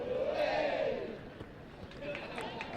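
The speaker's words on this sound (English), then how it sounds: "Crowd getting involved, always like to hear that" Crowd noise from spectators at a women's college varsity football match, a steady roar of voices and shouts in the background, with a commentator speaking over it.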